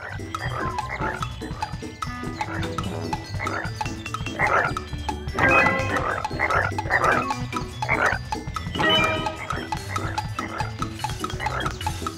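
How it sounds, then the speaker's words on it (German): Cartoonish frog croaks in a Winnie the Pooh children's video game, repeated throaty croaks over a steady backing of game music, continuing across the whole stretch. "die Frösche zu fangen? Huhuhu, das klingt lustig."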